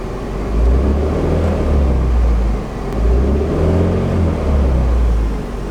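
Turbocharged Honda Civic engine, just fitted with a new starter, revving in a loud low rumble that swells and eases in a few slow waves, heard close with no voices.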